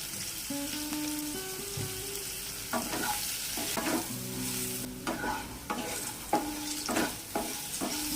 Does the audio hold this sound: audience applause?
no